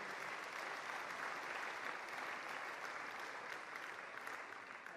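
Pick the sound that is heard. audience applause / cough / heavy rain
audience applause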